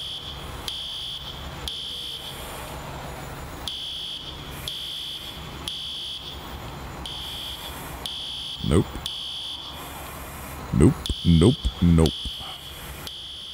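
A high, piercing alarm in the EmergeNYC emergency-response video game beeps in a steady repeating pattern through most of the stretch, with a person talking and a few brief thumps toward the end.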